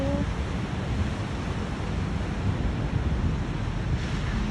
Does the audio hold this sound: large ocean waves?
yes